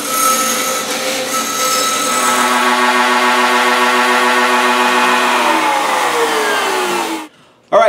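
Router on a router table trimming the excess off a maple top glued to a Strat-style guitar body, a loud steady high-pitched whine with cutting noise that runs continuously for about seven seconds, then cuts off abruptly.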